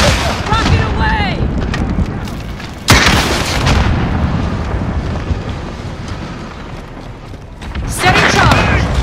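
A rocket fired in Call of Duty: Modern Warfare, with a sharp loud launch blast and a rumbling explosion, followed by a second burst near the end over wind-like noise and background battle sounds.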